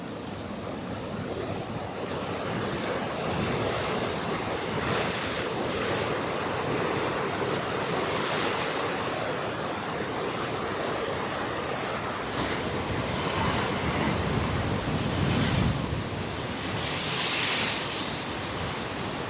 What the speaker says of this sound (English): the waves are crashing so nice tonight